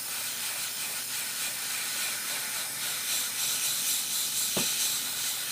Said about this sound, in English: very low on the compressor now, so I gotta refill it up again